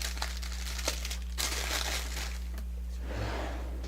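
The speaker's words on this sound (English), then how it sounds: "I'll get rid of that noisy wax paper" Wax paper being crumpled and crinkled by hand at a craft desk, a few soft rustling bursts at close range against a steady low electrical hum.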